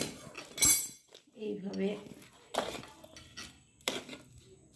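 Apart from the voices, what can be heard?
stirring sugar mixture on a plate with a spatula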